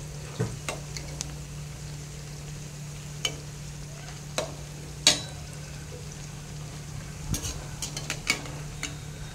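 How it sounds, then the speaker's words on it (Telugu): Ingredients fry in a pan with a steady low sizzle, broken by occasional scattered clinks and scrapes of stirring; no one speaks over it. "ఇవి బాగా వేగాల."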